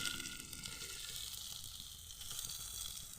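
Pork coated in spices sizzles steadily in a pan with onion, garlic and ginger, a continuous close hiss and crackle with no talking.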